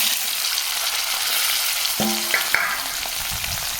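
Potato pieces drop into hot oil already seasoned with cumin seeds, giving a steady loud crackling sizzle with a few sharp clinks of a utensil against the pan partway through.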